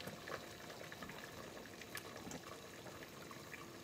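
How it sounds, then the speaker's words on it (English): Zuppa Toscana simmers in a covered pot, giving a soft, continuous low bubbling with faint lid and liquid sounds, quiet and steady with no talking. "I'm gonna put the cover on it and simmer"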